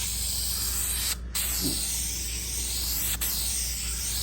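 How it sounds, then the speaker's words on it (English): Light mist of spray primer hissing from an aerosol can over an engine block in a home workshop, a steady continuous hiss with a couple of brief breaks. "I'm actually gonna prime the block before I get to it. Just gonna hit it with a light mist."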